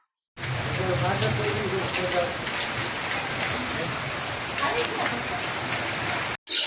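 Heavy rain with big drops pours down in a loud, steady wash of pattering that cuts off abruptly, while a voice briefly talks over it.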